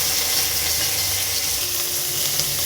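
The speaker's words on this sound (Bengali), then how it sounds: "আর কাঁচা লঙ্কা দিয়ে দেবো এর মধ্যে অ্যাড করে দিচ্ছি টমেটো" Tomato and green chili fry in a pan with a steady, close hiss and sizzle that continues evenly throughout.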